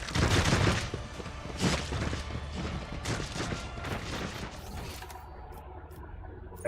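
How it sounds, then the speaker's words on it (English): Rapid gunfire from a Rogue Trader video game battle, a dense, loud barrage of overlapping shots and impacts that runs continuously before thinning toward the end. "this rapid fire. Never stop shooting."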